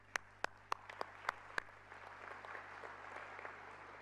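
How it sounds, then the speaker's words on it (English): Several sharp, distinct claps ring out at a peace convention, about six separate hits spaced roughly evenly, followed by a softer, diffuse spatter of scattered clapping from the audience that lingers quietly. "Give them once again a round of applause."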